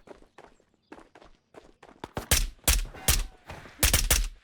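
Footsteps in the video game Ghosts of Tabor come as a series of sharp, close thuds, starting soft and spaced, then growing louder and heavier toward the end, with no talk over them.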